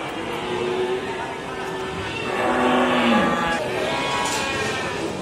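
Cows low at the Wonolelo livestock market in Wonosobo, a drawn-out moo rising above the steady murmur of the crowded market, with voices chattering in the background.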